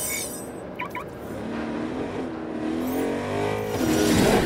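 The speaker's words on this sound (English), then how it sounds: "First, call your car." A car drives in the video game Agents of Mayhem, its engine revving and climbing in pitch as it speeds up, loud and close, with a short chime of game sound near the start.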